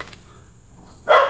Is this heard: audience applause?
no